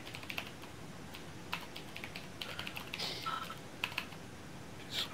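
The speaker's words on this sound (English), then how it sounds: "my typing" Light, irregular clacking from typing on a computer keyboard runs in quick bursts and pauses, faint against a low background hiss, with no talking.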